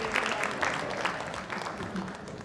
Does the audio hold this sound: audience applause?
yes